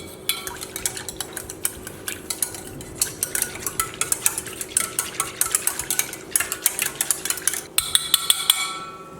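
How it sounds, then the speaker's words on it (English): A whisk beats pumpkin pancake batter with vanilla in a bowl, giving a steady run of quick clinking, scraping strokes against the sides, close and fairly loud, with no talking. "Now we're going to mix this up real good together. Use a whisk"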